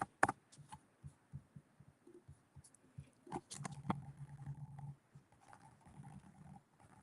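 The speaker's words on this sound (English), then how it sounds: "my typing is all over the place today" Irregular soft clicks and taps from a computer keyboard as someone types study notes, faint and close in a quiet room, with a brief cluster of louder keystrokes midway.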